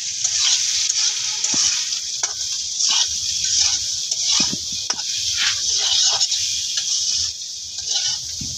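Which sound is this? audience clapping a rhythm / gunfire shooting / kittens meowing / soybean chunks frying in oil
soybean chunks frying in oil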